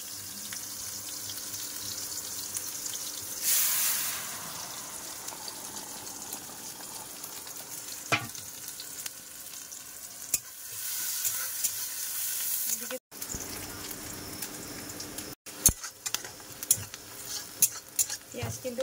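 Panch phoron spices sizzle in hot oil with onion and dry chilli in a Sundarbans village kitchen, a steady crackling fry with stirring scrapes, a brief louder burst of sizzle and a few sharp clinks near the end.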